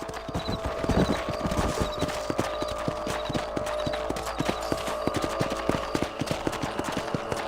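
Horse hooves clip-clop in a steady, fast rhythm while riding in the video game Red Dead Redemption, loud and close, with an occasional whinny and game sounds layered beneath.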